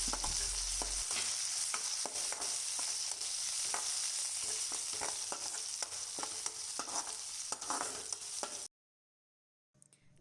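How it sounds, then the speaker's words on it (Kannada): Green chilies, dry chili, grated ginger and curry leaves sautéing in a pan, a dense steady sizzle with close spoon scrapes and taps, ending abruptly in near silence. "ಇವನ್ನು ಈಗ ಚೆನ್ನಾಗಿ ಹುರ್ಕೊಳ್ಬೇಕು"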